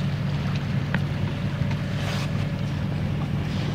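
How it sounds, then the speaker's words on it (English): Sailboat motoring under engine power into Long Hope in Orkney: a steady low engine drone runs throughout, mixed with constant wind rush and faint water noise, with no talk. "Here we are motoring into Long Hope."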